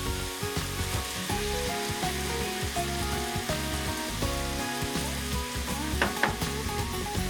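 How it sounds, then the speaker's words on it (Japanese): Onion stir frying in a pan for a beef and tomato dish, a continuous close sizzle broken by steady scraping and clattering stir strokes, with no talk. "Continue stir frying."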